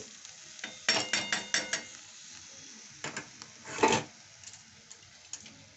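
Washed, drained rice tossed with spices in a hot pan, a run of quick stirring scrapes followed by scattered taps and a louder scrape, a faint sizzle underneath, close by and without talk.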